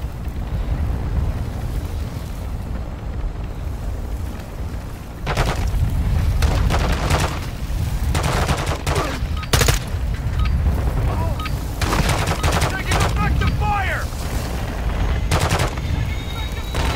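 Gunfire in the Call of Duty DMZ video game comes as loud bursts of automatic fire and heavy shots, rattling on and off across the stretch over a constant background rumble.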